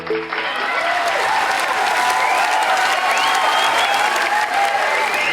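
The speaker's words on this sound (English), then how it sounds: "give them a round of applause" Audience applause for seven local performers at a semi-final talent show in Orillia, Ontario: a full, steady burst of clapping from a crowd that holds at the same loudness from start to end.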